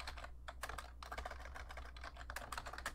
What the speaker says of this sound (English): we can type in our text comments